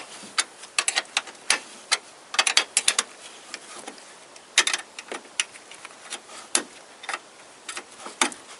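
A hand tool loosens a 10mm bolt beside the headlamp of a 2001–2007 Toyota Corolla, giving close, sharp ratcheting clicks in irregular bursts and quick runs with short pauses between, with no talking.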